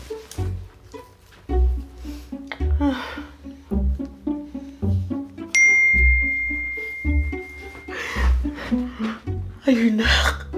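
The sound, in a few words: phone text message notification ding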